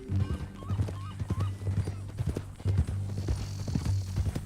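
Horse hooves clip-clop at a walking pace in Red Dead Redemption 2, a near, steady rhythmic clatter of individual steps with a whinny early on, under intermittent talk.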